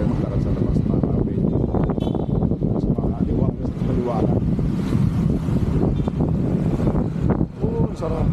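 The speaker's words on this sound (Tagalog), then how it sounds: "Sarap ng hangin." Strong wind buffets the microphone in loud, rumbling gusts, mixed with outdoor street ambience of Olongapo City, Philippines, and a voice talking underneath.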